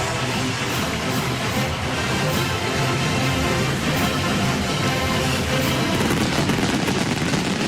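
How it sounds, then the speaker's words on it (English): Fireworks boom and crackle over a college football stadium as Wisconsin visits USC in Los Angeles, a dense continuous barrage of sharp pops and bursts filling the whole stretch at steady loudness with no talk. "And with the fireworks behind us"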